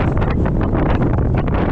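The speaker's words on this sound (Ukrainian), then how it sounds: "Вітер сильний." Loud, steady wind buffeting the microphone with a constant roaring rumble and no pauses.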